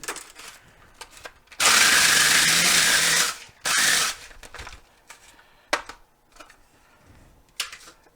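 A food processor grinding graham crackers into crumbs, two loud whirring bursts, a longer one followed by a shorter one, then quieter clatter and handling noises.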